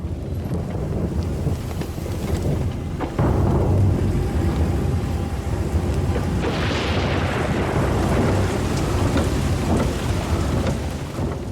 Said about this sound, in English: And then the most heavy monsoon rain.